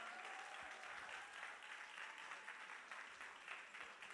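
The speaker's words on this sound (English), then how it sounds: "Can we give him a huge round of applause?" Sustained applause from a conference audience welcoming a speaker to the stage, steady dense clapping that holds at an even level throughout with no voices standing out.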